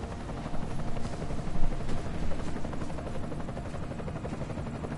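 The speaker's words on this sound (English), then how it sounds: "Enemy helo sighted." Enemy helicopter in the video game Deus Ex: Mankind Divided, a steady, dense rotor thrum with engine roar holding throughout, loud and close, with no talk over it.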